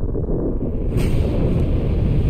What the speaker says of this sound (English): Did I cause that explosion?